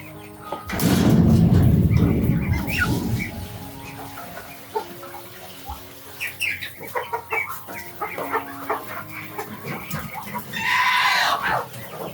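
Goats and chickens on a farm, with loud bleating near the start and again near the end and scattered clucking and rooster calls in between, all fairly close and with no talk.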